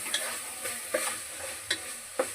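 Ginger and spices fry in oil in a pan for mushroom curry, giving a soft steady sizzle broken by about five brief scraping stirs at regular intervals.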